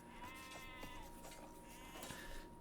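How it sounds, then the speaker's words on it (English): Sheep bleating in a real-time strategy game on a closed map, faint repeated bleats under soft game ambience with no talk. "Probably want to pick up those sheep at some point, though."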